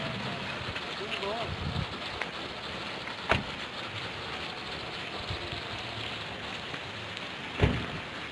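Steady rain hisses across the whole stretch, with a couple of sharp knocks. A few voices murmur faintly underneath.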